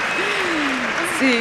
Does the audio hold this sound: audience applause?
yes